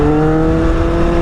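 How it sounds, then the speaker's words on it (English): Loud, steady engine drone from an older motorcycle fitted with an aftermarket race exhaust and race transmission, heard on a street in Korea, holding a sustained rumbling tone throughout with no talking. "that's just one hell of exhaust I put on there"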